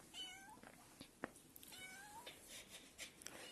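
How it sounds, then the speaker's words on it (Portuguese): Kittens give several high, thin meows in quick succession, faint and somewhat distant over a quiet background, with a few soft knocks and rustles between the calls. "São 4 gatinhos."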